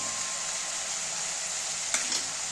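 Spice paste fries in a pan for a Bengali potato, pointed gourd and fish roe curry, giving a steady bright hiss with two quick stirring scrapes near the end.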